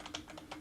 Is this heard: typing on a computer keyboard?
yes